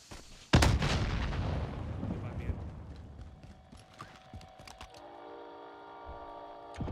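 Gunfire in the Call of Duty Warzone video game: one sudden loud blast followed by a long rumbling decay with scattered sharp cracks, then steady electronic tones near the end.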